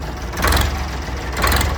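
Swaraj 744 tractor engine running with its silencer removed, a loud, raw, low rumble that holds steady and close throughout, with brief louder surges.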